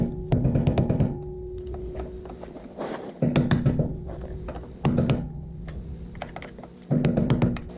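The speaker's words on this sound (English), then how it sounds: "A little round punch here" Repeated metal-on-metal hammer blows drive a small round punch against the staked collar of a CV axle nut on a 2007-13 Honda Fit, arriving in short clustered bursts separated by pauses, close and fairly loud with no talk.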